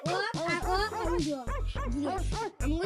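Harmonic, whiny vocal yelps in quick bursts, close and loud, like a person imitating a dog's barking and whimpering.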